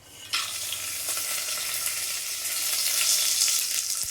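Whole garam masala spices hit hot oil with a sudden burst of sizzling, then a continuous close, bright crackling hiss that grows slightly louder as it fries, with faint stirring and no talk.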